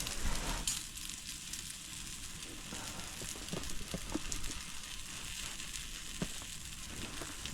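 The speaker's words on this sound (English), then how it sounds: "I think it's time to put the beans in the pan." Beans sizzle in a pan over an outdoor fire on the ice, a moderate crackling hiss with scattered pops and clinks of the pan that carries through the whole stretch.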